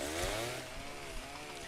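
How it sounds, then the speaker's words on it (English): A chainsaw in the video game 99 Nights in the Forest buzzes steadily with a whiny, slightly wavering engine tone, fairly loud and continuous with no talk over it. "This is a chainsaw."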